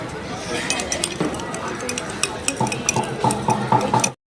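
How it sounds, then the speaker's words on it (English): A spoon stirring sugar into water in a glass beaker during a school science experiment, with light clinks and a run of quick tapping strikes near the end, under a busy room with voices. "Now we will mix at well."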